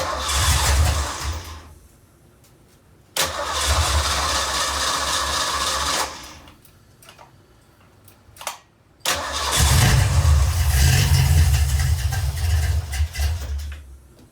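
A two-stroke engine, fueled with cheap two-stroke mix, roars into life in three loud bursts of running and revving, each separated by short pauses of quiet where it dies back before restarting.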